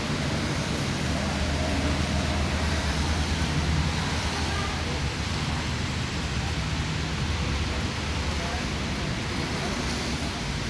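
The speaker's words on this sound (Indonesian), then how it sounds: "Kondisi hujan teman-teman ya." Steady rain at a roadside bus agency in Pasar Rebo, a constant broadband hiss with a low rumble of traffic beneath, continuous and even throughout.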